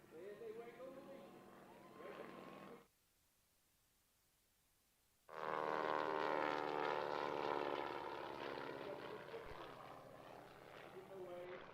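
Aircraft on their final pass at an air show, a propeller-like drone that cuts out briefly and then returns louder and fuller, sweeping past at moderate distance, with an announcer talking over it.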